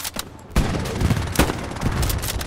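Heavy gunfire in a tank battle game, dense rapid shots and sharp cracks rattling loud and close in a continuous barrage, without speech.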